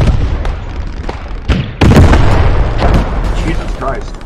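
High-explosive artillery firing in the war game Post Scriptum: several loud booms and bursts, the heaviest about midway, rolling over continuous battle noise with voices talking beneath.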